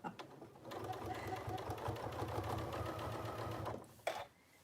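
A sewing machine runs steadily for close to four seconds, its fast even stitching stitching through fabric at a near, moderate level, then it stops with a short clunk before a quiet tail.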